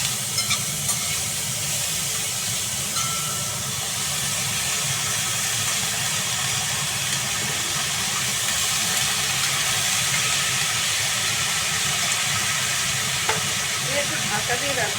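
Beans, flat beans, pumpkin, cauliflower and tomatoes sizzle steadily in a pan for a Bengali chorchori, a constant broad frying hiss with faint stirring clinks and no talk.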